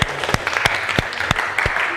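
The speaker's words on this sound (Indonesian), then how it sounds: "kasih tepuk tangan" Classroom applause during an Indonesian teacher-training lesson, a short burst of rhythmic group clapping with sharp individual claps standing out, fairly loud and close.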